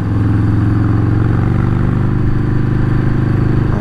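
Loud, continuous Harley-Davidson Softail Standard motorcycle exhaust howl, a deep throaty engine drone held close and steady with rich rumbling harmonics.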